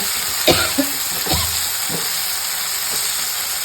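Ingredients sizzle in hot oil for a tamarind curry, a steady close hiss of frying broken by a few louder scraping stirs.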